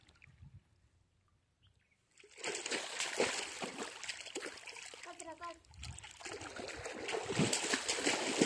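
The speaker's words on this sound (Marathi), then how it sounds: "आमचा समर्थ पण विहिरीत मस्त पोहत होतो." A boy splashing while swimming in a farm well, quiet at first, then continuous water sloshing and splashing close by from about two seconds on, with voices talking over it.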